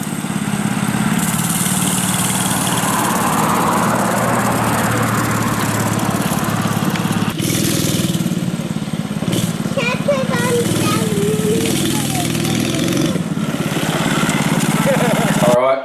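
A go-kart engine runs during a test of a newly fitted hydraulic handbrake, a loud, steady buzzing drone that rises and falls slightly, with a voice heard over it.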